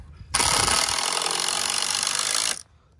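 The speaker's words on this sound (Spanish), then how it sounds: "Puro tornillo, Héctor. Aquí se está clavando el último escalón." A power screwdriver drives screws to fasten the last wooden step of a modern entrance staircase, one loud continuous whir of just over two seconds, close by and alone.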